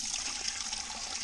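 Maple sap poured off from a frozen container, a continuous close trickle of liquid splashing steadily for the whole moment, with no voices.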